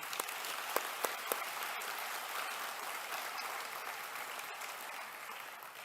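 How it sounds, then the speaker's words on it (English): A convocation ceremony audience gives a round of applause for the organizers: a soft, distant-sounding, sustained patter of many hands, with a few sharper claps near the start, fading slightly toward the end. "I would like also to have a round of applause for those who have organized the ceremony"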